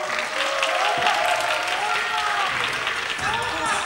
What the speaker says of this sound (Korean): 큰 박수와 함께 퇴장하도록 하겠습니다.